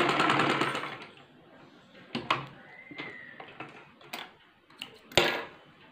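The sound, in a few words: sewing machine stitching a salwar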